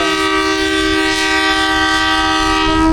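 Pakistan Express pulling out of Wazirabad Junction sounds a long, loud, steady horn over the deep rumble of the moving train, continuous throughout.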